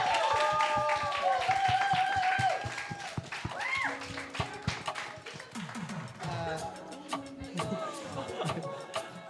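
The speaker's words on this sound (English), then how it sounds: "Big round of applause for our panelists." Audience claps for the panelists at the close of a panel discussion on Asian representation in media, loose scattered clapping mixed with cheering voices and chatter, thinning toward the end.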